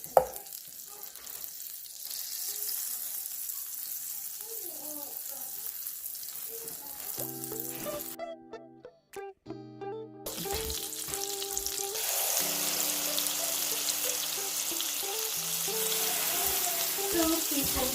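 A small piece of butter sizzles and fries in a pan, a soft, continuous crackle at moderate distance, with a brief dip before the sizzle resumes and grows slightly livelier.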